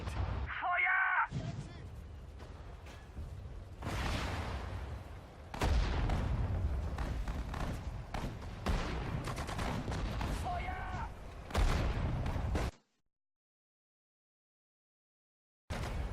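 Gunfire and artillery in the World War II strategy game Sudden Strike 4, bursts of shots and booming blasts recurring in clusters, with a sudden silent gap near the end.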